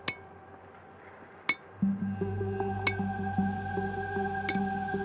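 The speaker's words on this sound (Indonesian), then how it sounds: "bunyi ketukan pelan dan ritmis, seperti jari yang mengetuk kaca" A finger taps slowly and rhythmically on glass, four bright, evenly spaced clinks that ring briefly over a low, humming drone in an eerie horror scene.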